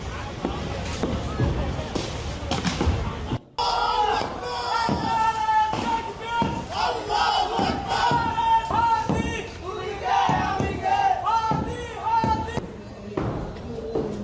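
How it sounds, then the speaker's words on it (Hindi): Dense crowd of protesters in Dhanmondi chanting slogans in loud rhythmic unison, with repeated shouted phrases and thumping beats over constant crowd roar, close and sustained throughout. "वो नारे बुलंद किए जो इस समय आप इन आवाजों में सुन रहे हैं"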